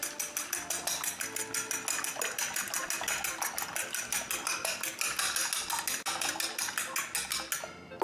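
Eggs being whisked in a bowl with a fork or whisk, a fast, even run of bright clinking taps against the bowl, close and continuous, stopping abruptly at the end.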